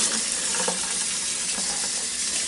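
Steady tap water pours and splashes over pieces of northern pike during a final rinse in a sink, a continuous close hiss with faint clinks and no talk.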